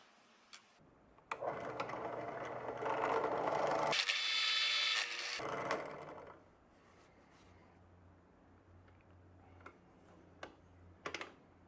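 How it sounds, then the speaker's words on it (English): A drill bores a hole into a block of wood for a fire-piston build, a whirring buzz that swells for about five seconds and then stops, followed by quiet with scattered light clicks and knocks. "we're going to want to drill a hole into this piece of wood that's the size of this piston"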